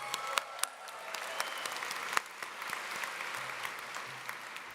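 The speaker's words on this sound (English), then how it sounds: "Let's give ourselves a round of applause." Graduates at a university commencement ceremony applaud together, a steady, moderately distant clapping with occasional sharper individual claps standing out.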